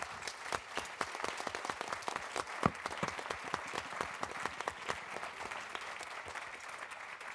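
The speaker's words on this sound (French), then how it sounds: "Je pense qu'on peut applaudir nos 2 intervenants." Sustained audience applause at an HR conference, many hands clapping steadily for several seconds in a large room, gradually thinning toward the end.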